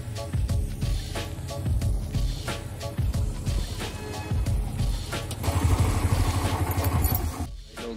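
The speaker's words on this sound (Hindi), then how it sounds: "ये बाइक स्टार्ट करते ही चौथे गियर में डायरेक्टली स्पोर्ट्स कॉम्प्लेक्स।" A motorcycle ridden in fourth gear right after starting gives a steady engine roar with road and wind rumble and occasional clattering throughout, fairly loud and close.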